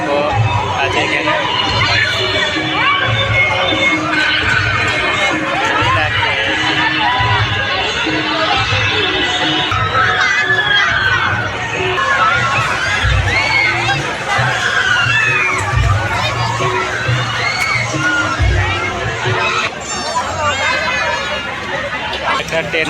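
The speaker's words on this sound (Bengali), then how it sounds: "প্রচুর ভিড়।" A dense, loud crowd at a village fair, with continuous babble of many voices, children shouting and cheering, and occasional low thumps beneath the hubbub throughout.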